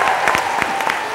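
At a book launch event, an audience claps steadily and densely for about a second, with no pauses.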